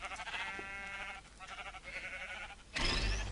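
Sheep bleating inside the Minecraft video game, a few wavering bleats over steady game background, followed by a sharper bright sound near the end.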